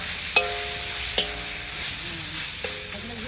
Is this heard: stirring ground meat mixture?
yes